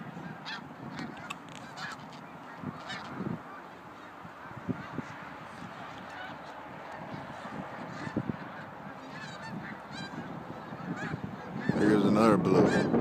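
Snow geese honking in Pennsylvania in late February, a large flock calling continuously at middle distance with a louder, denser burst of honks near the end.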